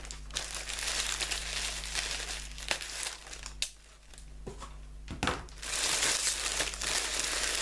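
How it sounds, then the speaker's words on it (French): Paper wrapping crinkles and rustles close up while a candle box is unpacked, irregular crunchy bursts with short pauses and a steady low hum underneath. "désolée pour le bruit du petit papier"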